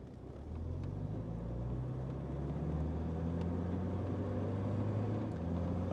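A 1934 Packard Eight convertible with a three-speed synchromesh transmission drives along, its engine a steady, close, low rumble that holds evenly throughout with no talk.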